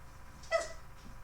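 A single short dog bark comes through from nearby in a room with a steady background hum, brief and moderately loud.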